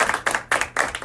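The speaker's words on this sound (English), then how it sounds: "Give the comptroller a round of applause" A small group claps in a quick, even rhythm for the comptroller, about four bursts of hand claps in a second, close and fairly loud.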